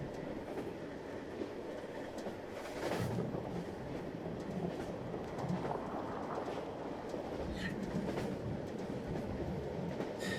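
A train in a video game rumbles along with rhythmic clickety-clack wheel beats and occasional higher squeals, steady and fairly quiet over ten seconds, with no talking.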